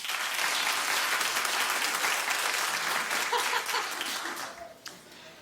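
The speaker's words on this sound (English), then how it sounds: "Clap if you did." A studio audience at The Wendy Williams Show bursts into loud, sustained applause with scattered laughter, then the clapping tapers off toward the end.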